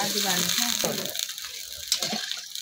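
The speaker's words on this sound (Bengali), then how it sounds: "আলু মশলা থেকে তেল ছাড়িয়ে এই সময় আমি জলটা দিয়ে দিই।" Water poured into a pan of potato and egg curry with spiced potatoes, a brief rushing gush that fades into a soft bubbling hiss, with a voice speaking over it.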